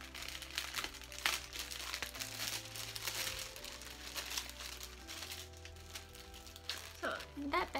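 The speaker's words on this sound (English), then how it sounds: "So I'm gonna unwrap this first and see what's in here." Plastic wrapping on a doll clothing package crinkles and crumples as it is unwrapped, a faint, steady rustling of several seconds with a sharper burst of crinkling near the end.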